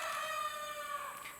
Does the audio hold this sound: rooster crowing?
yes